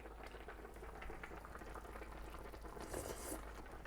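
Kimchi stew simmering and reducing in a pot, a faint continuous bubbling and soft patter of boiling liquid with no voices over it.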